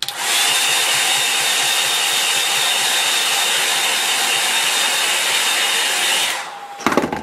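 A hair dryer blows steadily and loudly for about six seconds to dry a painting of a country lane in Kent, a broad constant whoosh with a faint whine, then cuts off into a few brief handling knocks.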